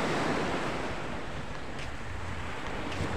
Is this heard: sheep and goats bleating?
no